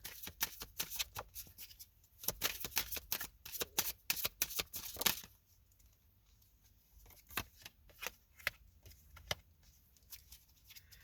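Tarot cards are shuffled by hand up close, giving quick riffling flutters and soft slaps in dense bursts at first, then sparser individual card snaps.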